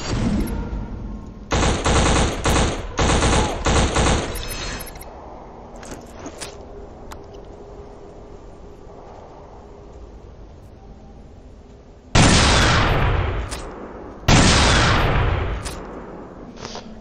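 Gunfire in a video game: loud bursts of automatic fire in three quick volleys, a quiet stretch with faint game sounds, then two more heavy blasts that ring out and decay.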